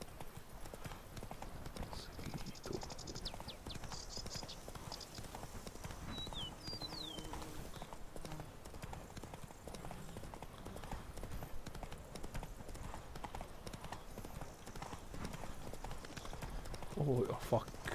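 Horse hooves clip-clop steadily at a gallop in The Witcher 3 expansion Blood and Wine, a rhythmic, continuous beat running the whole time under game music and effects, with a voice speaking briefly near the end.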